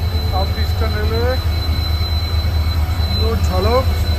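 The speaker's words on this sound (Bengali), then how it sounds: "এই দেখো Santragachi station, south eastern railway," An evening train at Santragachi station on the South Eastern Railway, with a steady low rumble of rolling wagons and repeated high wheel squeals rising over it, close and loud throughout.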